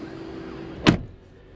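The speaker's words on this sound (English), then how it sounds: "So let's close the door." The driver's door of a 2016 Lincoln MKX Reserve shuts with a single solid thump partway through, over a faint steady cabin hum.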